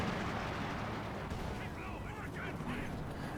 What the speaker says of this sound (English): now they're barraging this base